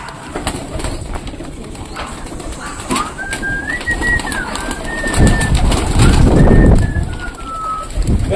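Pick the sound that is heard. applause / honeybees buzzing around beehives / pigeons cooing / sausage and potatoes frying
pigeons cooing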